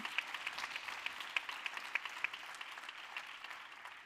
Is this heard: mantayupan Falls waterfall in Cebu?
no